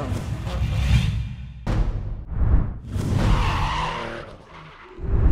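A BMW race car skidding with tires squealing, loud bursts of screeching rubber and engine rush coming in repeated waves, close by with no talk.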